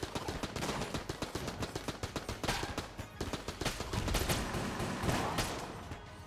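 Rapid gunfire from Enter the Gungeon crackles in dense, irregular bursts of sharp shots, swelling into heavier volleys near the end.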